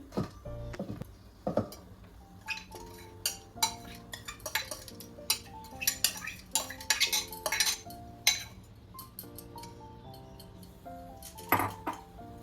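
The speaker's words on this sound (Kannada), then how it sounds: "ಈಗ ಎಲ್ಲ ಇಂಗ್ರೀಡಿಯೆಂಟ್ಸ್ನ ಮಿಕ್ಸ್ ಮಾಡ್ಕೊಳ್ಳೋಣ" Pumpkin recipe ingredients being mixed in a bowl with a utensil, giving a series of sharp clinks and scrapes against the bowl in irregular bursts, close and fairly clear, with no talking.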